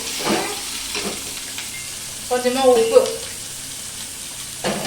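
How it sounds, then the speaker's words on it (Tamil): Onions frying in a pan with a little salt for a dried-fish thokku, a soft broadband sizzle with a few louder scraping stirs near the middle and end, close and moderately loud, with no talk. "வெங்காயம் வதங்கிறதுக்கு கொஞ்சமாக உப்பு"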